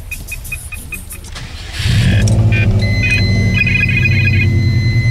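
A car engine cranks and catches, then settles into a loud, steady idle with a deep rumble from a bad exhaust, running close by after a quieter lead-in.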